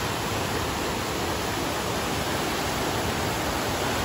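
Steady, dense roar of a waterfall close by at Sweetwater State Park in Georgia, a continuous broadband rush with no pauses or voices.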